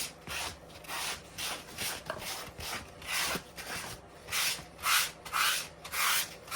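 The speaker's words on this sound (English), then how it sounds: "This one needs a little more sanding, I think." Rhythmic hand sanding on a painted wood panel: steady back-and-forth rasping strokes, about two per second, close and fairly loud, with no talking.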